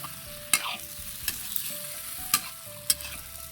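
Tulingan fish with fish sauce stirred in a frying pan, a low sizzle punctuated by four or five sharp metallic scrapes and taps of the spatula, close and fairly quiet.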